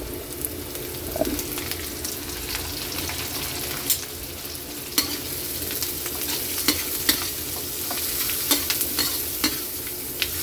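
Garlic, onion and butter sizzle steadily in a pan, a continuous close frying hiss with a few sharp pops and spatula scrapes and no voices.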